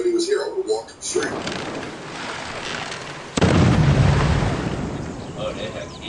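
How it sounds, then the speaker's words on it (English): Cannon blasts ring out in a video game, with a sharp, loud explosive boom partway through that leaves a heavy rumbling wash, over continuous game noise and a player talking. "Oh, they have cannons."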